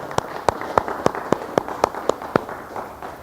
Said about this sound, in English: let's give them both a round of applause if we could